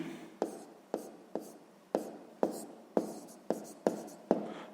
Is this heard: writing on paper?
yes